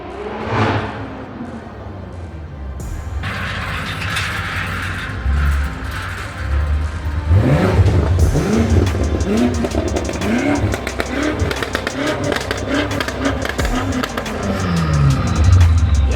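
A BMW G80 M3 approaches from a distance, its engine revving harder and louder as it nears, with tire squeal mixed into the roar.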